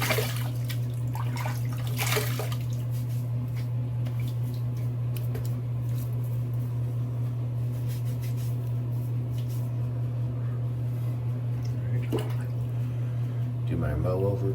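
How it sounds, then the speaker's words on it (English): Water splashes in brief bursts as a face is rinsed at a sink after a shave, heard over a loud, steady low hum that runs throughout. "I'm gonna rinse my face"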